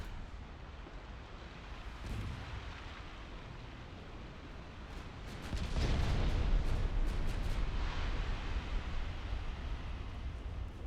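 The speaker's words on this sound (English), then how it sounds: "that was 9-inch gunfire from my own cruiser" Naval gunfire in the warship game Ultimate Admiral Dreadnoughts, 9-inch guns from a cruiser, heard as a broad rumbling boom that swells midway and lingers over a steady background roar of wind and sea.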